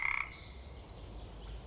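Frog croaking sound effect, a quick rattling burst of several rapid pulses at the start, then fading into a soft, low background.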